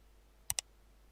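A computer mouse clicks twice in quick succession while drawing lines in AutoCAD, crisp and close against near silence.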